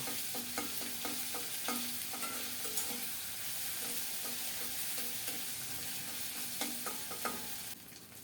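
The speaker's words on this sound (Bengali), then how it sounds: "আদা জিরা বাটা দিয়ে খুব সুন্দর করে ভেজে নেব" Ginger-cumin paste fries gently in a pan over lowered heat, a quiet, soft sizzle punctuated by repeated clinks and scrapes of a stirring spoon.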